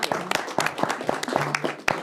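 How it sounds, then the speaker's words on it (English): Light, scattered applause from attendees at a city council meeting, a handful of distinct claps spread over a couple of seconds with faint voices underneath. "we all need to applaud"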